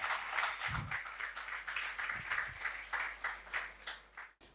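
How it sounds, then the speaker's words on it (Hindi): Audience applause for the poet Ali Zaryoon at a mushaira poetry gathering: a steady wash of many hands clapping, fairly faint and distant, continuing for several seconds before stopping abruptly. "अली ज़रियून के लिए भरपूर तालियां प्लीज़।"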